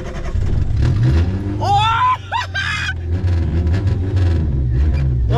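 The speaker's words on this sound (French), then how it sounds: "On va vous faire un démarrage. Et là, on va nous entendre sur le bivouac." Renault 4L with its muffler gone, engine cranking and then revving hard, the raw exhaust loud and close; a person shouts briefly partway through the burst of engine noise.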